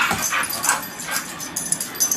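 A pit bull named Lexi whimpers and yips during a training session, with high, thin whines and short cries close by, and a few sharper yelps near the end.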